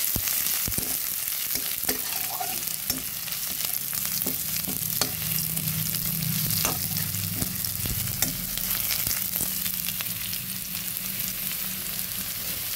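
Chopped onion, garlic and green chilli fry in oil in a pan with a continuous close sizzle, broken by repeated sharp taps and scrapes of a stirring spoon. No one speaks.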